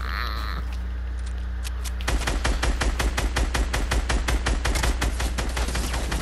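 Submachine gun fire in a video game: after a quieter stretch with a tone, rapid sustained bursts of loud automatic shots begin and keep hammering in a fast, even rhythm to the end.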